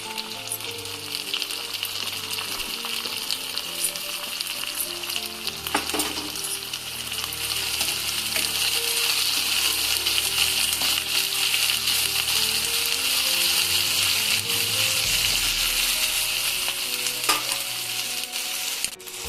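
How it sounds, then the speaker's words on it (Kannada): Sour tomatoes frying in a pan for egg bhurji, a dense continuous sizzle with occasional stirring taps, close and steady throughout, without voices. "ನೋಡಿ ಸ್ನೇಹಿತರೆ, ಟೊಮೊಟೊ ಹಾಕ್ತಾ ಇದ್ದೀನಿ."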